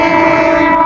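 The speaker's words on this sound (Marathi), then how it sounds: "ट्रेन पण आली" A train passes close by with its horn blaring, a loud sustained tonal blast over rumbling rail noise in a brief burst.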